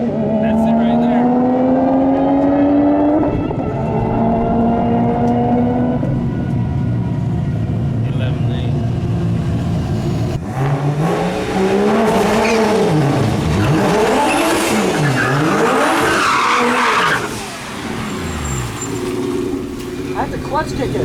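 A car accelerates hard after a clutch kick, its engine revving in rising sweeps before tires squeal loudly near the end of the run.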